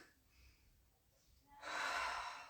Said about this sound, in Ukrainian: І глибокий вдих